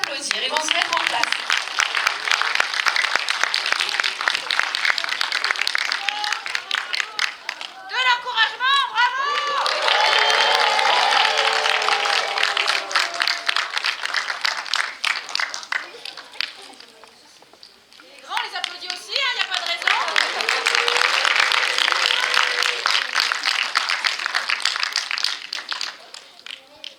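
A cinema audience at Pathé Joliette applauds kung fu demonstration participants, with loud, dense, sustained clapping in two long bursts separated by a short lull where voices come through.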